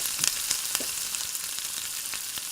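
Crushed tomatoes hit a hot pan with a steady bright sizzle, scattered pops and crackles as they fry while cooking pork and beans, no voices over it.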